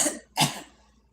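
Two harsh coughs, close and fairly loud, about a third of a second apart, the second one stronger, then quiet.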